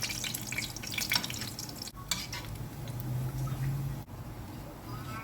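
Pork browning in a pan while being stirred, a soft sizzle and wet scraping with a few knocks of the utensil, close and quiet, running continuously without any talk.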